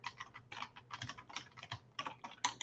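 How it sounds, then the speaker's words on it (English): Quick, uneven bursts of keystrokes on a computer keyboard as an email signature is entered, close and crisp, with brief pauses between runs of keys. "So I can type my email signature here"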